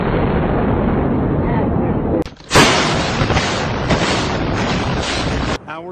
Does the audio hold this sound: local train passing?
no